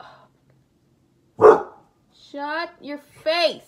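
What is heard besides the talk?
dog barking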